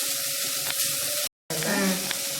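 Water poured from a cup into a pan while cooking millet upma, a steady splashing stream with a brief silent gap partway through, close and moderately quiet.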